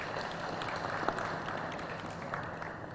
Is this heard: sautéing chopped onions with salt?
no